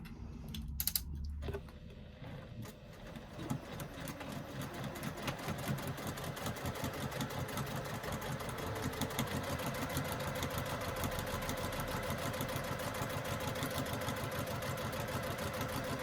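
A sewing machine stitches the side seams of a fabric bag, a fast steady mechanical rattle that runs continuously after a few brief handling clicks at the start, close and alone.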